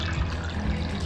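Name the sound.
water being poured into a cooking pot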